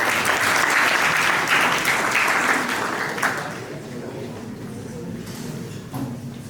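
Loud classroom applause from a group of students for a pupil named Zoya, dense clapping that fades partway through, with some voices mixed in.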